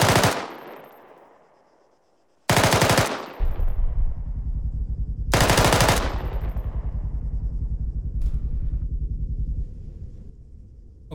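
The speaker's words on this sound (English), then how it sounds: "So, a sustained rate of fire for the saw is going to sound something like this." An M249 SAW machine gun fires three short, loud bursts close by, each a dense rattle of rapid shots separated by pauses, with echoing rumble and a faint metallic clatter afterward.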